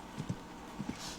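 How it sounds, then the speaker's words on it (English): Quick hoofbeats of an Appaloosa in an extended canter in the horse-riding video game Riding Star, a few soft, rapid thuds in a short burst at low volume. "the extended canter is super quick, like so quick"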